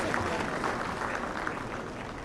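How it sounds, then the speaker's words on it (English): An awards-ceremony audience applauds the CEO of MTN with a faint, steady wash of distant clapping, and a murmur of voices sits underneath it. "Let's give him a big round of applause"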